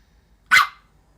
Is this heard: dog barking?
yes